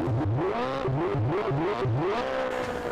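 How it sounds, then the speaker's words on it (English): A Mitsubishi rally car with a damaged gearbox drives a Rally of Norway stage, its engine loud and close, rising and falling in repeated rev surges with a whining, strained note. "as you can hear, he struggled a lot to get the car through the stages with a damaged gearbox"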